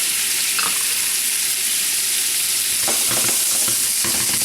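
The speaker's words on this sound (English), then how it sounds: "We've got a pan that's hot here with some olive oil to start, and we're going to start with our seafood, shrimp, and the scallops both together." Shrimp and scallops frying together in a hot pan of olive oil, a loud continuous sizzle with faint stirring scrapes toward the end, up close and no voices.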